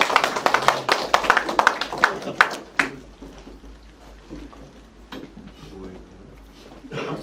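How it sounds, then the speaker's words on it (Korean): Brief burst of clapping from a small group at a Korean lecture for a few seconds, fading into quiet room noise with faint murmuring. "박수 모시겠습니다."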